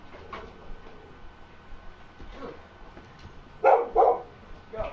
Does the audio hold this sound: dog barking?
yes